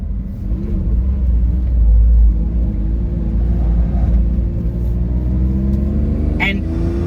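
Honda S660 with a LibertyWalk widebody kit and manual gearbox, its engine droning loud and steady with a deep low rumble that swells slightly and climbs in pitch toward the end.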